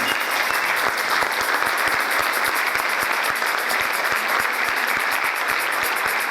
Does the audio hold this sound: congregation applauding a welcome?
yes